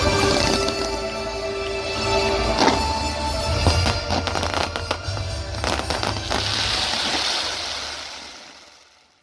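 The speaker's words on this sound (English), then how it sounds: "The show ended with a spectacular firework finale and was just the perfect ending to a superb evening." A fireworks finale at an outdoor evening show, with a dense rapid barrage of crackling bangs and booms, loud and continuous for several seconds before fading away at the end.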